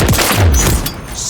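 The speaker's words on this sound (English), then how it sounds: "Friendly cruise missiles deployed." Cruise missile strikes explode during a team deathmatch on the Scrapyard map in Call of Duty: Modern Warfare 3, producing loud, booming blasts that rumble together in a dense burst.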